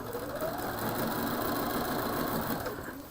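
Sewing machine stitching a quilt block seam for a shoofly pattern, a continuous fast mechanical whir held for a few seconds, close and steady before tapering off at the end.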